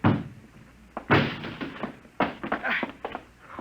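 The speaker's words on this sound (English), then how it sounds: "Break down the door" Radio drama sound effect of a door being broken down: several heavy, loud thuds and crashes in irregular succession, each with a short rattling decay.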